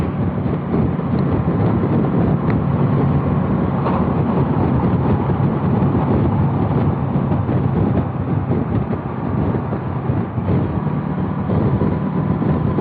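Heavy road traffic of trucks and buses rolls past continuously, a dense broadband roar with steady rumble and wind buffeting, loud and close throughout with no talk.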